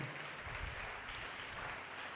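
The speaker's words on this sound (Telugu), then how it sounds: "గట్టిగా చప్పట్లు కొట్టి గట్టిగా దేవుని మహిమ పరుద్దాం" A congregation claps loudly and continuously at a Christmas church service, a dense, steady wash of applause that fills the whole moment without pause.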